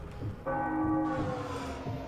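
A church bell in the video game Sniper Elite V2 rings out after a short quiet lead-in, one loud, close strike whose bright metallic tone hums and slowly fades.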